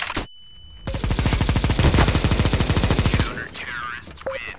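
Negev machine gun fired in a video game, one sustained rapid automatic burst of roughly two and a half seconds, loud and close, followed by game sound effects.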